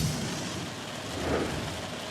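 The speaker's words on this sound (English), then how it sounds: "You may even be able to hear that rain just pounding down right now" Heavy rain pounds down in a storm while driving, a steady, dense wash of noise with no voices.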